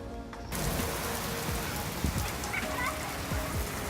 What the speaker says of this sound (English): It's a torrential downpour right now.